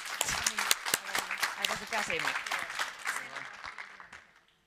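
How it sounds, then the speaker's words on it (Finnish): Applause at a vocational education seminar, a crowd clapping under a voice that talks throughout, then fading away to quiet by the end. "Ja raikuvat aplodit"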